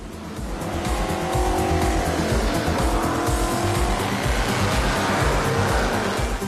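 A vintage Mercedes-Benz Formula One racing car is driven at a Mercedes-Benz meeting at Tempelhof, its engine a loud continuous roar with tire squeal layered in, close and sustained, with no talk.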